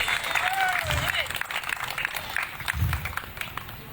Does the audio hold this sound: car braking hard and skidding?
no